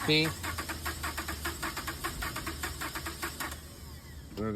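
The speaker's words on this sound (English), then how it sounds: "when we crank the car" A car's starter motor cranks the engine in a fast, steady rhythmic whirr of repeated pulses for several seconds before stopping. Someone speaks briefly at the start and end.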